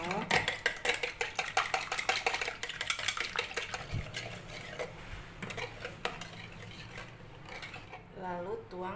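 A whisk beats caramel cake batter in a bowl, rapid rhythmic metallic clicks and taps against the sides, close and fairly loud, with a voice speaking briefly over it near the end.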